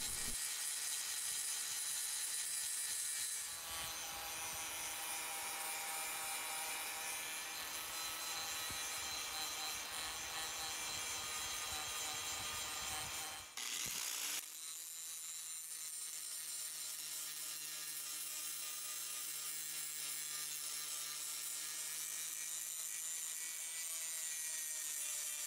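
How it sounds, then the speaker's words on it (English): A grinding disc trues up a cut-out knife blank for a homemade knife, a continuous harsh, abrasive grinding whine that runs unbroken, with one brief change in tone partway through. "we switched over to the grinding disc to true it all up."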